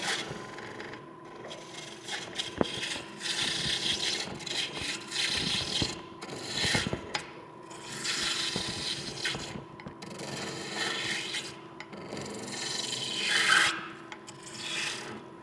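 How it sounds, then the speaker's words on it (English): A roughing gouge cuts green wood on a lathe, making repeated rasping, scraping bursts in uneven passes with brief pauses between them. The cutting sounds fairly close and moderately loud, with no voices. "So just using a roughing gouge here to get the worst of it off."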